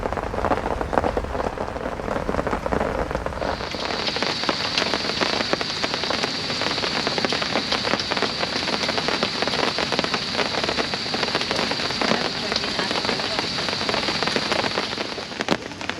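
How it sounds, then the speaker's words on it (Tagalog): Heavy rain pours at a campsite near Metro Manila during a typhoon season, starting as a dense low roar and swelling after a few seconds into a loud, continuous hiss of drops on surfaces. "walang hinto yung ulan"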